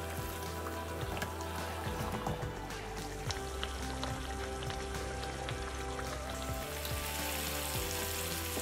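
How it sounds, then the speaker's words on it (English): Tomatoes frying in hot oil, a continuous crackling sizzle with occasional sharp pops, close and steady throughout. "add your tomatoes and start frying them"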